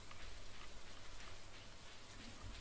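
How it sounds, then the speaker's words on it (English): Steady rain patters and hisses in the video game Stardew Valley, a soft continuous wash of falling drops with no voices. "it's raining, isn't it?"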